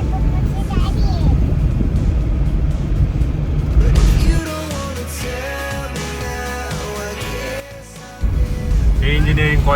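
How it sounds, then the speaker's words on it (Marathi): A car drives along a road near Nevasa Phata, with a steady engine and road rumble close by under a child's and an adult's voices. "माझे पप्पाची गाडी आहे"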